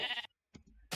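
A sheep in a video game gives two short bleats separated by a brief silence, the first a clear, nasal cry and the second lower and muffled.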